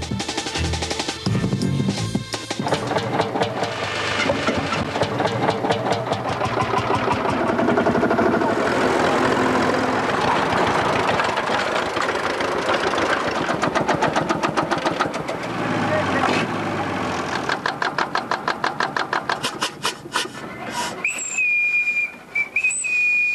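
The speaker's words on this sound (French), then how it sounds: "Ce tracteur à vapeur vient de souffler ses 108 bougies." A 108-year-old steam tractor engine runs with a fast, steady rhythmic chuffing and clanking, then a long, high steam whistle sounds near the end.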